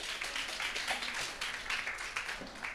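A small audience claps at a talk on a magic-themed presentation, with fairly quiet, dense clapping that holds evenly for a few seconds.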